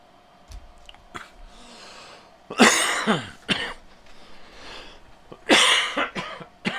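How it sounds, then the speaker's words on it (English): A person coughs twice, harsh raspy bursts a few seconds apart, preceded by quieter throat noises and breathing close to the microphone. "Pardon my cough."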